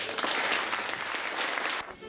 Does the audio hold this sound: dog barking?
no